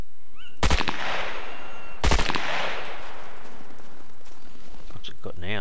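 Two bursts of UMP-45 submachine gunfire in the video game Scum, loud close automatic strings with long ringing decays between them, followed by quieter clicks and handling near the end.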